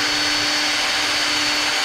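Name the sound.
power drill boring into a hose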